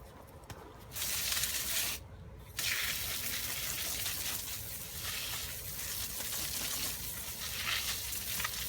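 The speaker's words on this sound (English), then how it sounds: "And I'm actually gonna water it now." Hose water pouring steadily onto soil around a newly planted avocado tree, a continuous gushing hiss that starts after a brief pause and runs on at an even level with no talking.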